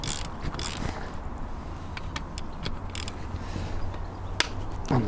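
Bolts are undone on a Triumph Spitfire engine crankshaft during a strip-down, with close ratcheting clicks and metallic creaks over a steady background, with no talk.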